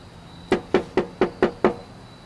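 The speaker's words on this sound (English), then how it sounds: "How about if we knock on your door" Six firm knocks rap on a door inside an old historic house, evenly spaced about a fifth of a second apart, loud and close against a quiet room, with no talking.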